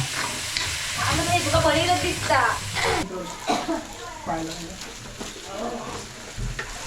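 Paneer sizzles and fries on a hot tawa at home while momos are being made, a crackling hiss with stirring scrapes running under lively talk and laughter.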